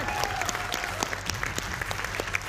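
Audience applause in a Hindi TV debate studio, welcoming a group of students seated there; steady, dense clapping from a nearby crowd throughout, with no talking over it.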